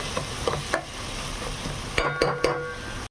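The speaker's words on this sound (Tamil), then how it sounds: "இஞ்சி பூண்டு பேஸ்ட்டு போட்டு ஆட் பண்ணிவிட்டு கொஞ்சம் நல்லா வதக்கி விட்டுலாங்க" Ginger garlic paste fries with onions and green chillies in a pan for palak biryani, a soft sizzle under a few scraping stirs and light metal clinks from a spoon, close by and with no talking.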